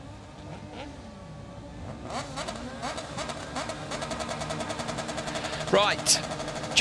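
Junior cross cars rev at a rallycross race start, engines droning and rising under a commentator's voice, with the revs building in pitch and loudness toward the end and a sharp whine near the close.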